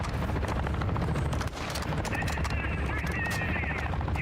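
Sustained rapid gunfire from a vehicle in a military video game, a loud dense stream of automatic shots over a rumbling engine, with a person talking underneath.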